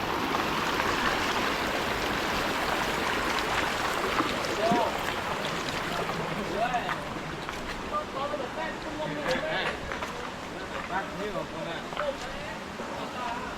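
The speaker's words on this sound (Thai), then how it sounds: "เมื่อกี้ขึ้นมาน้ำไหลค่อยๆหน่อยตอนนี้น้ำไหลแห้งแล้ว" Constant rushing trickle of stream water at a cave entrance in Vang Vieng, Laos, steady and moderately loud, with someone talking over it throughout.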